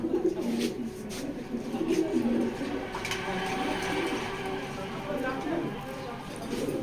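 Racer pigeons, among them a white grizzle hen, coo softly in a loft, repeated low throaty calls at moderate distance under a voice, with light rustling and shuffling around them.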